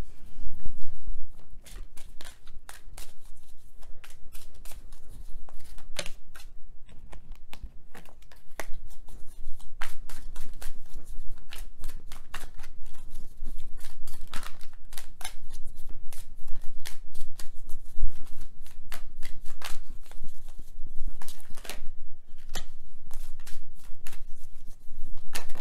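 A deck of Wisdom of the Oracle cards is shuffled by hand during a tarot-style reading: a long, continuous run of close, crisp papery riffling and slapping, with no talking.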